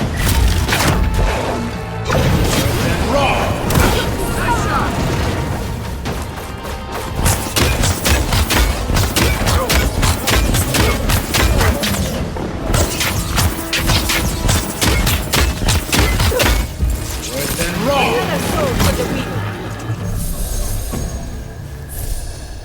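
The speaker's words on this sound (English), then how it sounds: "Good shooting, Kai." Sustained gunfire from the fantasy video game Avowed: dense, rapid volleys of shots and impacts rattle almost continuously, loud and close, with a brief lull near the start and another toward the end.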